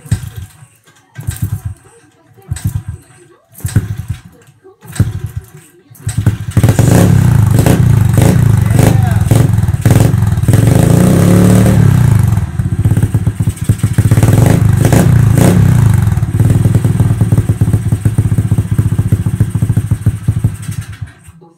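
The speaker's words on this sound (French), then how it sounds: "Bon, c'est pas super bien réglé, mais en tout cas, ça démarre. Voilà, le KLX tourne." Kawasaki KLX110 dirt bike engine sputters through several short start attempts, then catches and runs steadily and loudly at close range with uneven revving, slightly rough from imperfect tuning.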